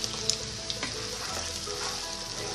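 Tomato puree with coriander powder and other spices fries in oil in a pan, giving a dense, even sizzle with a few tiny pops near the start.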